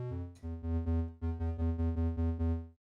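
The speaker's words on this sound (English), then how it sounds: "I would recommend taking maybe like a triangle wave." Synth sub bass built on a triangle wave, playing a run of repeated sustained notes with rhythmic retriggering, loud and clean with a bright stack of harmonics, no voices over it.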